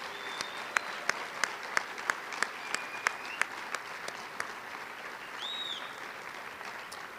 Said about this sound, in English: Let's give everybody a warm round of applause